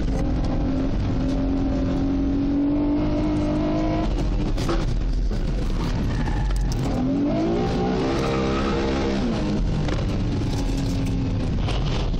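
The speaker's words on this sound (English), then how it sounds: "the FTO, two-litre motor car" A Mitsubishi FTO MIVEC two-litre coupe races at Tregrehan, heard from onboard: loud engine revving rising and falling through gear changes, with tyre squeal and skidding over a constant roar.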